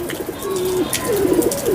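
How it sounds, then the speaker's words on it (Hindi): A pigeon coos close by, a low throaty warble repeated in soft rolling phrases. "ये है जी कबूतर।"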